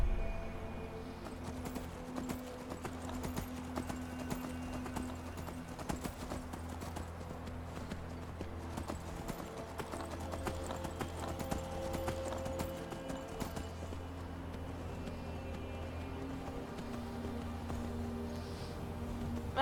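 Horse hooves clip-clop steadily in the Skyrim video game, a quiet rhythmic trot running the whole way through over low droning game music and ambience.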